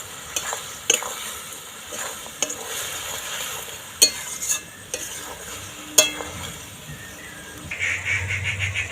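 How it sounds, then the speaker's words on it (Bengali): A spoon stirs ground spices through a fig curry frying in a pan, producing a steady sizzle broken by several sharp scrapes and knocks against the pan, with the frying growing louder near the end. "গুঁড়ো মশলা দিয়ে দিচ্ছি এক চামচ দিয়ে ভালো করে নাড়াচাড়া করে নেবো"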